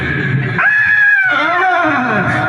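A person on stage in a devotional drama screams in fear, a loud sustained shriek that rises then slides downward, with a second wavering cry following close behind and no clear words.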